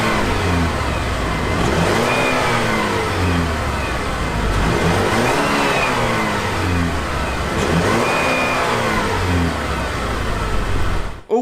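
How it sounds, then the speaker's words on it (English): The engine of a 2017 Buick Regal sedan revs up repeatedly, about three rising and falling sweeps close to the car, loud throughout with no voices. "let's give this engine a listen here"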